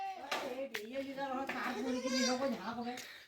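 Goats kept in a hill village bleat in wavering, drawn-out calls, close and fairly loud, with several bleats running together over a few seconds.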